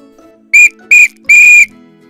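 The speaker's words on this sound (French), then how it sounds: "Siffle encore la directrice." A school headmistress blows a whistle three times, two short shrill blasts followed by a longer one, loud and close against a faint background.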